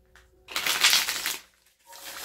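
A deck of tarot cards is shuffled close up, giving one dense riffling burst that fades out, then a softer second round of shuffling starts.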